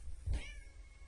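A pet cat meows once, a short, clear, fairly close call over a low room hum.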